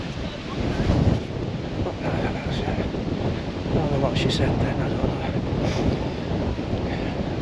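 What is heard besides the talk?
strong wind blowing on the microphone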